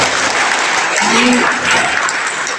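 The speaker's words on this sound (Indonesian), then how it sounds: "Tepuk tangan untuk DMI Mas" A seated audience at a mosque council slaughter-training session applauds loudly and evenly, a dense unbroken wash of clapping that lasts the whole moment, with faint voices underneath.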